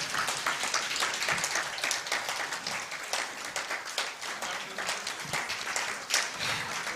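An audience at a citizen assembly on debt and anti-corruption keeps up steady, crisp clapping, a dense field of hand claps at fairly even loudness that carries through the whole stretch.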